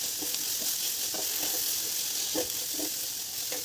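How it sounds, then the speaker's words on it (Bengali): Potato and spiny gourd pieces sizzle steadily in a hot pan with turmeric and salt, a constant frying hiss with occasional soft stirring scrapes. "এটা ভাজতে ভাজতে আলু আর কাঁকরোল ভালোভাবে সিদ্ধ হয়ে যাবে।"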